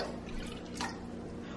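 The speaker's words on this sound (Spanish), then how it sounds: "pondremos en algún bol 5 tazas de agua o 1 litro de agua" Water splashes and drips into a bowl being filled with about a litre for washing food, a soft trickling with a brief brighter splash midway, heard alone.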